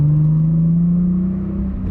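A 1994 Toyota Supra with an Eclipse exhaust pulls in second gear, a loud close engine drone holding a steady rising tone for about two seconds before easing off slightly, with no talk.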